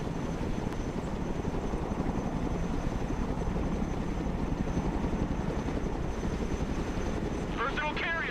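A Chinook helicopter's rotor drone fills the scene steadily, a loud, continuous low throb that persists without a break from start to finish.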